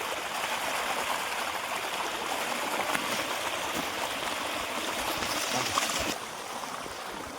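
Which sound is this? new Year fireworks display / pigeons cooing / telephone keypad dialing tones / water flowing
water flowing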